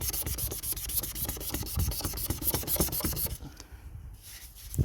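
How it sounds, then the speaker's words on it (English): Hand sanding of weathered carbon fiber with 320 grit sandpaper, a close rapid rasping rub in quick repeated strokes that fades and thins toward the end. "if you sand this carbon fiber, that's all well weathered"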